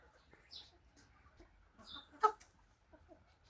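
A few soft, scattered chicken clucks with short sharp calls, fairly quiet against a faint background, no one talking.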